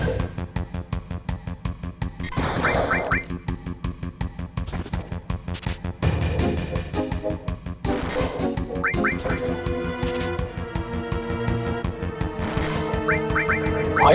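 Repeated squawking cries from a bird enemy in Final Fantasy VII rise in short bursts over looping battle music, returning every few seconds.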